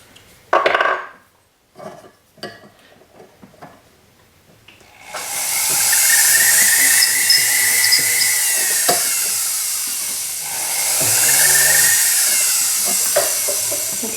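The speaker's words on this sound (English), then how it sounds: "I'm going to need to clean up the edges with the ball burr." A few light taps and handling knocks come first, then a rotary ball burr grinds the edges of a copper cuff with a sustained, bright, close whine that wavers in pitch and briefly eases before picking up again.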